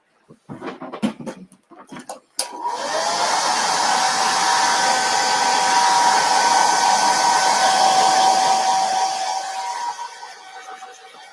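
A hair dryer blows steadily on a wooden Christmas tree sign made of folded, stacked book pages, switching on loud and close after a few handling sounds and running continuously before easing off at the end.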